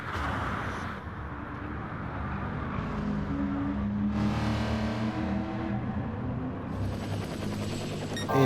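Race car engine roaring steadily down the Mulsanne straight in a racing video game during a one-hour endurance event, a loud sustained drone that rises in pitch around the middle and again near the end.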